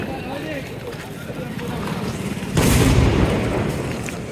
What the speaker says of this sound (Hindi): रास्ता ब्लॉक करके यहाँ पे पटाखे फोड़े जा रहे थे।